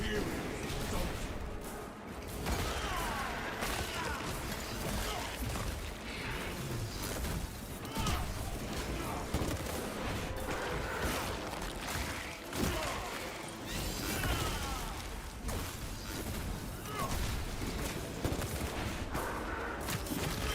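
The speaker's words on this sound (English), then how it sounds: "The heroic bolt pistols is the best bolt pistol these days." Heroic bolt pistols fire in Space Marine 2 amid a dense, noisy battle mix of rapid bursts, crashes and whooshes that continue throughout, fairly loud and busy, with voices mixed into the din.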